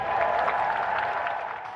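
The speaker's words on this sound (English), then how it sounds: "Clapped into Downing Street by a mass of old friends and allies" A crowd of old friends and allies applauds as the new Prime Minister arrives at Downing Street, a dense, steady patter of many hands.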